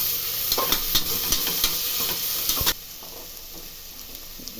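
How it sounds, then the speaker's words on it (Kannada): Crushed ginger, cloves and cinnamon fry in a pan for tomato bath, giving a loud, steady sizzle with scraping stir strokes that suddenly drops to a softer crackle partway through. "ಅದನ್ನು ಹಾಕ್ತಾ ಇದ್ದೀನಿ ಇದೊಂದು ನಿಮಿಷ ಹಸಿ ವಾಸನೆ ಫ್ರೈ ಮಾಡಬೇಕು"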